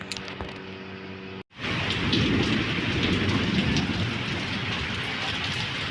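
After a brief moment of near-silence, heavy night rain pours down steadily with a deep thunder-like rumble underneath, loud and continuous.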